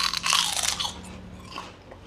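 Freshly fried shrimp crackers (kerupuk udang) are bitten with a loud, close crisp crunch, followed by a few quieter chewing crackles.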